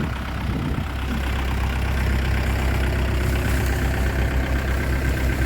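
A loud, rumbling tractor engine powering a corn stalk chopper for cattle feed idles steadily with a low, chugging throb, with no talking.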